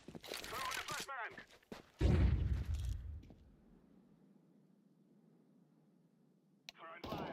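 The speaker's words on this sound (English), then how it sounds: "Throwing a flashbang." A flashbang grenade goes off in a first-person shooter game, a sharp close burst followed by a low fading ring, with gunfire and clatter just before it and another short crack near the end.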